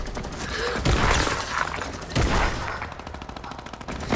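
Shotgun blasts in Fortnite, several heavy gunshot bursts punching through busy game noise with a rough, clattering texture.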